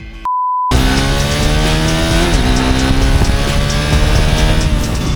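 A Triumph Tracker 400 motorcycle rides along. After a short electronic beep and a brief gap, its engine note comes in loud and close, with revs climbing and shifting throughout.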